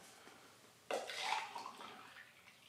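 Coffee suddenly pours into a cup, a short splashing gush that trails off into a gentle trickle, close and fairly quiet.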